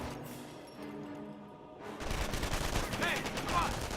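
An MG42 machine gun fires in the Company of Heroes World War II strategy game. After a quieter opening, a dense, continuous rattle of rapid gunfire bursts in and keeps going, loud and close.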